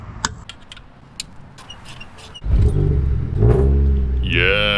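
Nissan Sentra autocross car engine with a new OEM Hitachi throttle body, a faint idle and light clicks, then a sudden louder rumbling rev that climbs slowly and holds, a whine rising at the end.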